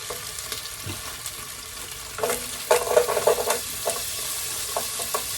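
Carrot pieces sizzle quietly in a hot pan with fat. A soft crackle swells to a louder burst of frying and stirring around the middle, then settles back to a low sizzle.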